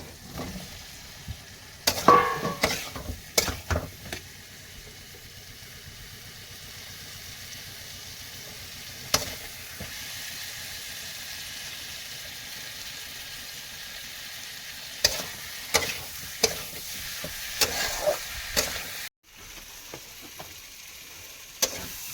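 Potatoes and vegetable stems fry with spices in a pan, giving a steady sizzle. Bursts of scraping and stirring clatter come in a cluster early on, then again in a run near the end, close and fairly loud.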